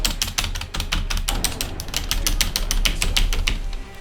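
Rapid clicky keystrokes on a computer keyboard, close and loud, tapping in a dense uneven rhythm over a low steady hum.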